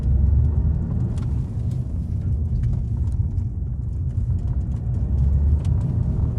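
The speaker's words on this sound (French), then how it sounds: "Accélération." Heard from inside, a Volkswagen sedan accelerates on the road with a low, rumbling engine and road drone that stays steady and full throughout, no voices over it.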